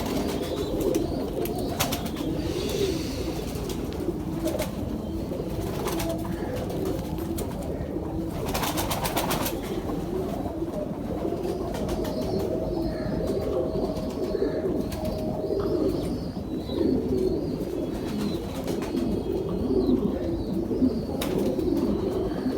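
Pigeons, including a female, coo softly in a low, rolling murmur, with occasional wing flutters and faint background noise throughout.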